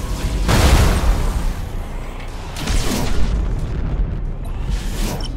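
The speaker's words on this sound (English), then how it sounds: "Main batteries, open fire." Spaceship main batteries open fire in a video game cinematic: heavy booming blasts, one big detonation then further rumbling volleys, loud and reverberant with no talking.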